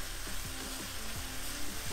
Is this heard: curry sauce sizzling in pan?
yes